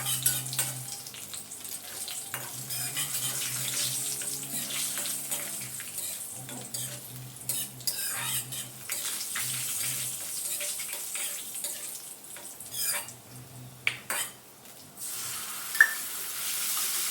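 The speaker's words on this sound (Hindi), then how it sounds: "फिर यहाँ पे आ गए हैं सनई के फूलों की सब्जी बना लेते हैं।" Sanai (sunn hemp) flower vegetable curry frying and being stirred in a pan in an Indian village kitchen, a steady sizzle with scraping and stirring noises throughout, no talking.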